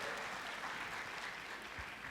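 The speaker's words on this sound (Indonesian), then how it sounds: "Tepuk tangannya boleh yang paling meriah buat Tuhan kita." A church congregation claps together in steady, dense applause that fills the whole span with a broad wash of hand claps and no voices on top.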